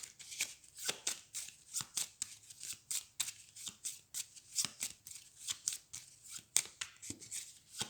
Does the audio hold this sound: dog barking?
no